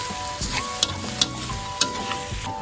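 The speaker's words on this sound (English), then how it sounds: "Then mix it." Fermented durian tempoyak is stirred in a hot pan and sizzles steadily. A spoon scrapes and knocks against the pan a few times over the continuous frying hiss, with no talking.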